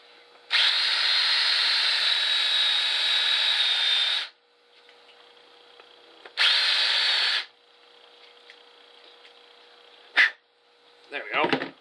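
A power drill whirs loudly for several seconds, stops, then runs again in a shorter burst, followed by faint clicks and rattles.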